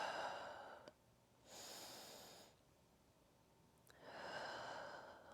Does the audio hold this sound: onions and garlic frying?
no